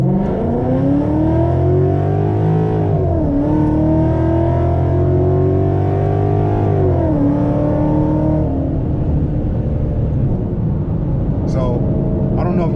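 An automatic car's engine revs up loudly and close, its pitch climbing through first and second gear with audible drops at each shift before settling into a steady drone.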